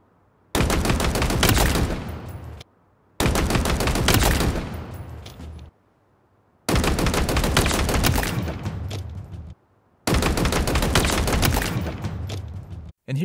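Four long bursts of rapid automatic rifle fire from the AR and Commando in Halo Infinite, loud and continuous, each separated by a brief silence, with no talking.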